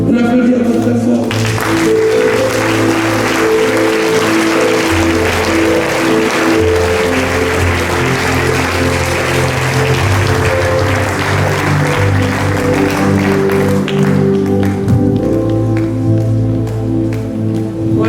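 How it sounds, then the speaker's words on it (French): Loud applause from a congregation at a charismatic church conference, clapping mixed with sustained music and chords underneath, continuous and full-bodied, with voices present throughout. "On applaudit encore très fort."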